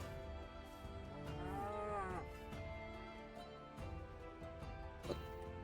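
Cows moo in the Minecraft video game, several drawn-out bovine calls overlapping one after another at moderate loudness, with game noise around them.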